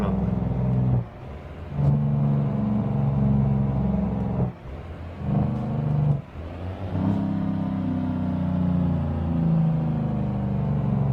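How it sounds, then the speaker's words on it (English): Truck engine with Jake brakes rumbling in a trucking video game, heading into a slow speed zone on Interstate 5; a loud, continuous low engine drone with brief dips and surges, no talk. "Go ahead and get those Jake brakes rumbling."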